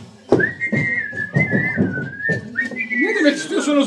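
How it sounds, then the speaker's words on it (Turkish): People whistle in a 1994 stage comedy performance, a clear, sustained tune in close range that wavers up and down for a few seconds, with a brief sharp noise at the start and faint background rustle. "ıslık çalıyoruz sayın zabitim"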